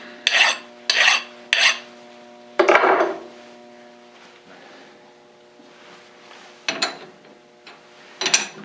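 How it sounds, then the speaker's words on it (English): Hand file knocking a burr off rough sawn metal stock before it goes into a 4-jaw chuck, a few short close rasping strokes separated by pauses and light clinks. "just taking a file, knocking that thing down so it'll sit nice in the 4-jaw chuck"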